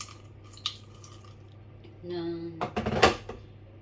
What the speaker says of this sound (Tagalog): Pinapainit ko na yung kawali. So, lagyan ko lang siya ng konting tubig.